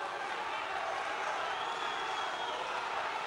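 A boxing crowd cheering a fighter, a dense, steady roar of many voices from a distance that stays at an even level throughout.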